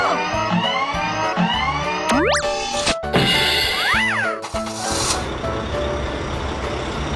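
Kids' cartoon scene with a big truck and a crane truck: a steady truck engine runs under beeps, cartoon swooping effects and a hissing burst, with a loud rumble building toward the end.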